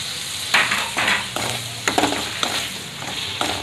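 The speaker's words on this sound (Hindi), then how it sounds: "अब मसालों के साथ टमाटर को भी अच्छे से भून लेंगे 3 से 4 मिनट तक" Chopped tomatoes fry with spices in a pan for paneer bhurji, a continuous sizzle broken by repeated scraping stirs of a spoon at irregular intervals, fairly loud and close, with no voices.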